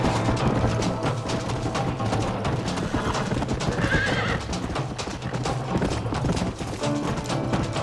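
Steady clip-clopping of horse hooves with occasional whinnies in the video game Red Dead Redemption, dense and continuous against a busy background.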